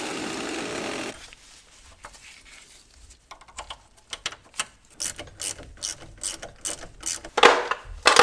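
Ratchet clicks from a torque wrench tightening lug nuts on a car wheel to 80 foot-pounds, a run of sharp, irregular clicks that starts after a quiet stretch and grows louder toward the end.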